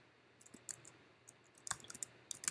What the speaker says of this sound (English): now we're going to click the submit button